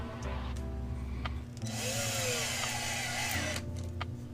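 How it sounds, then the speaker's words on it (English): A power drill drives a screw down into a clamped wooden board in a woodshop, giving a close, steady motor whir that shifts in pitch midway through the run. No one speaks. "We're going to put it right in that hole and screw it down."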